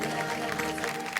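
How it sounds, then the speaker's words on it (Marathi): Applause from a crowd of pilgrims for a contestant at an outdoor quiz show, a steady patter of clapping lasting the whole moment at moderate level. "विठ्ठल जोरदार टाळ्या"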